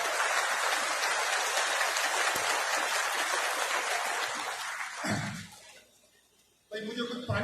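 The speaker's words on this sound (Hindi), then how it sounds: "तो एक बार जोरदार ताली बजाओ।" Loud, dense applause from an audience at a community awards ceremony runs steadily for about five seconds, then fades and breaks off before a short final burst of clapping.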